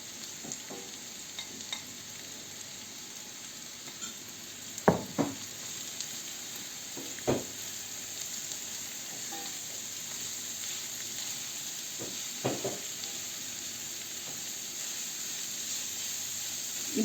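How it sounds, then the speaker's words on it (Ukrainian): Steady sizzling of carrots frying in a pan until softened, with occasional sharp scrapes and stirring clatters, close and continuous. "смажимо до зм'якшення моркви"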